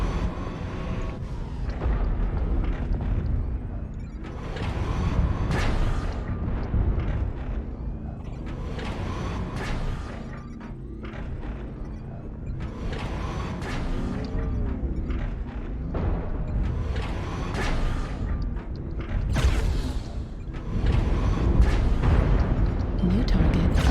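Gauss rifle shots in MechWarrior Online fired by a CDA-3M mech, sounding as repeated heavy booming discharges over a constant rumbling mech and battle backdrop, with a voice talking through much of it.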